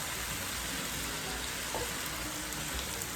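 Mushrooms and onions cooking down in a pan for plant-based spaghetti, a steady dense sizzle like light rain that holds at an even level throughout.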